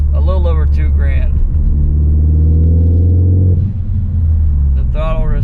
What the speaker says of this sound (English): I'm in 4th gear right now, you can see the torque is just insane, and I'm at a little over 2 grand